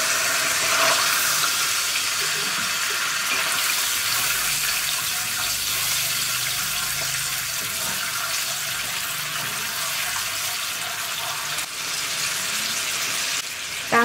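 A little clean drinking water is poured into a hot wok of bok choy stir-fry with oyster sauce, and a loud, steady hiss and sizzle fills the whole stretch, close and unbroken, with no voices.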